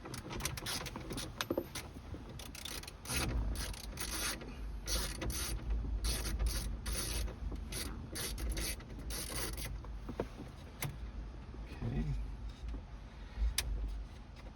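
Two 7 mm screws being taken out of interior trim on a GMC Yukon, with a steady run of clicking, ratcheting and small metallic rattles, close up, and no talking.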